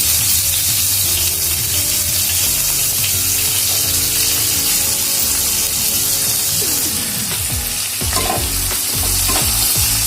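Chopped onions fry in hot oil for a rohu fish and potato curry, a loud, close, continuous sizzle with stirring scrapes near the end.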